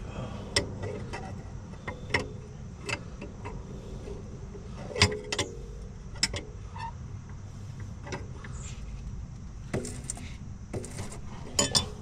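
Scattered metallic clicks and clinks of an adjusting wrench tightening a coilover adjuster on a CL500, irregular and fairly close, over a low steady background hum.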